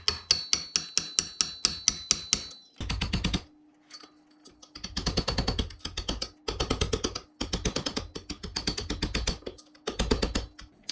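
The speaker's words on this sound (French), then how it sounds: "on va venir la pousser avec notre chasse-goupille et un marteau" Hammer blows on a pin punch drive a friction bushing into a classic motorcycle fork while a seal is replaced, with rapid close metallic taps in bursts separated by short pauses.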